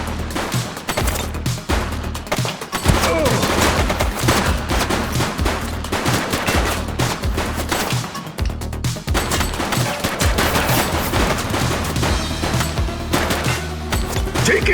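Loud, dense automatic gunfire in a police game set in a city precinct, rapid bursts of shots rattling almost without pause over a low rumbling background.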